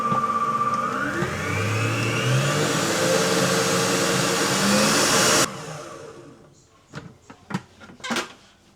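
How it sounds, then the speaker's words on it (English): An electric mixer whisks butter for a classic cherry cake: a loud, steady motor whirr whose pitch rises as it spins up, then cuts off abruptly. A few short knocks follow. "turn it on and give it a little whisk up"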